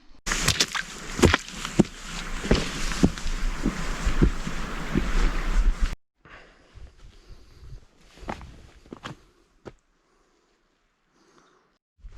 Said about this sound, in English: I've got a little wind sock on the GoPro, so it's quite windy right now